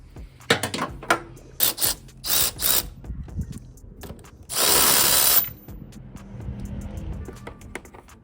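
A power drill or impact tool spins a bolt out of the coilover bracket on a car during a D16 engine removal. It fires in several short, loud bursts, then one sustained whir, with ratcheting clicks in between and no talk.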